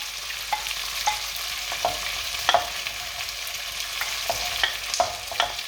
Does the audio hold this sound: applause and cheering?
no